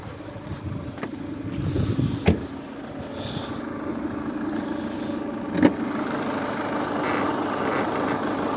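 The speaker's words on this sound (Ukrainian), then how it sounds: "А двигун, двигун, як працює двигун, ще не показав." A 2011 Peugeot 5008 with a 2.0 HDi diesel, running with the hood open, gives a low steady idle close by, with two sharp clicks or knocks standing out over the hum.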